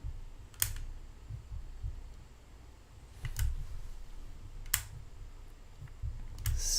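A stylus scratching lines on a sketch toy, a few brief separate strokes and clicks spaced across a quiet background, close and fairly faint, with no talking.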